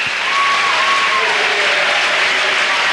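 Football stadium crowd at a 1994 Grimsby Town match applauding a substituted goalscorer, sustained loud clapping filling the whole stretch with a commentator's voice faintly over it.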